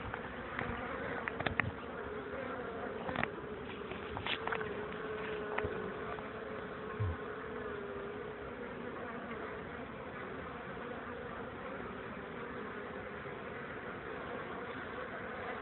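Honeybees buzz in a steady, continuous drone close by, with a few sharp clicks and knocks early on.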